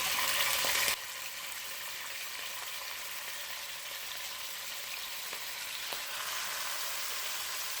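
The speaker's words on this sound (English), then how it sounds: "We'll go in with the onion. And the saltfish." Onion and saltfish frying in a hot pot for saltfish and tomatoes, a steady close sizzle that starts with a brief louder burst, then settles into an even hiss with no talking.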